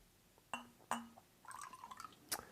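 Apple cider vinegar poured from a bottle into a cup of water, with two sharp glass clinks followed by a short burst of liquid trickling and splashing, then a final clink, close and fairly quiet.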